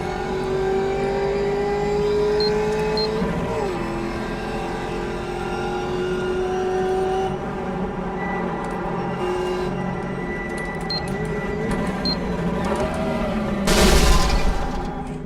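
A race car engine in the iRacing sim game revs hard with steady tonal whine, shifting pitch, then a sudden loud burst near the end as the engine blows, alone without talk.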